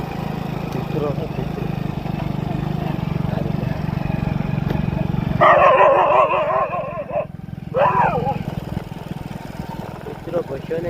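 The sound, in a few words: dog barking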